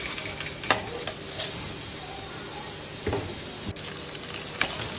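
Onions frying in ghee in a pan on a lit stove, a steady sizzling hiss throughout with a few light stirring scrapes and taps, close and moderately loud, no talking.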